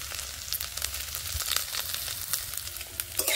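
Turmeric, chilli powder and salt fry in a pan, giving a dense, steady sizzle with faint stirring scrapes, close and continuous without speech.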